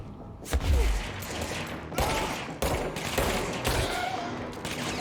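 Gunfire in the video game Control, a series of heavy, booming shotgun-like blasts spaced about a second apart amid a dense, rumbling combat backdrop.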